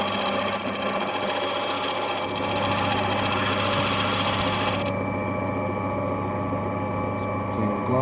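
An opal polishing wheel with a pad runs with a steady, close mechanical whir and faint rhythmic ticking, its high hiss cutting out partway while the motor hum continues evenly.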